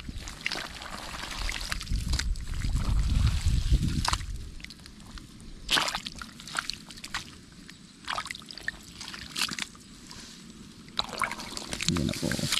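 Water running steadily from a hose or pipe over a string bean patch, a continuous rushing and trickling wash with louder gushes early on, heard outdoors without speech.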